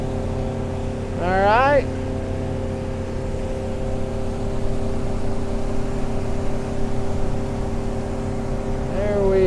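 A Yamaha 115 outboard motor on a 1987 Arima SeaChaser 17 holds a steady 4,000 RPM as a constant, close, loud drone. Someone speaks briefly over it, and a few short whistling squeals break through now and then.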